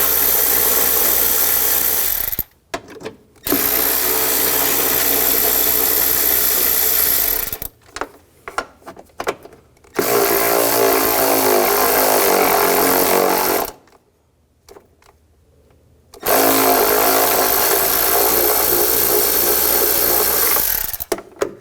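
A ratchet or power tool spins out bolts with a 10mm socket on a 2013-2019 Ford Escape during brake master cylinder replacement, loud sustained whirring in several long bursts separated by short pauses.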